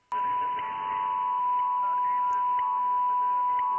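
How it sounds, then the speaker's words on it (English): A steady, loud 1 kHz carrier tone from an HF radio receiver tuned in upper sideband holds unbroken for several seconds over faint background hiss. "So you're hearing that carrier."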